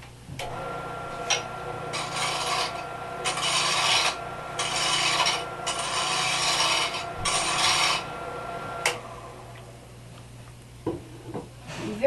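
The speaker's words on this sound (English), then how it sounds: "when it's really rough like this on your wood, right around here, if you can see that" A roughing gouge cuts across rough wood on a spinning wood lathe, making several harsh rasping bursts of a second or so each, separated by short pauses over a low steady hum.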